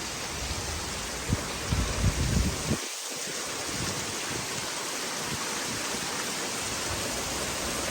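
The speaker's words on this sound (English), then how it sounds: "Do you see the rain hitting the thing? It's pretty hard." Heavy rain pours down during a storm as a dense, continuous hiss close by, with a brief burst of louder splashing near the start before the downpour settles into a steady roar.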